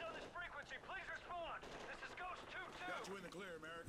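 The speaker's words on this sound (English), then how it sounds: "Submachine gun for the win." Submachine gun fire in the Call of Duty: Ghosts campaign, rapid bursts of shots crackling amid game effects and a voice talking over the action, at fairly low volume.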